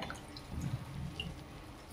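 Water drips and trickles from soaked food squeezed by hand while sushila, a breakfast dish, is being made. The patter is soft, close and irregular over two seconds, and no one speaks.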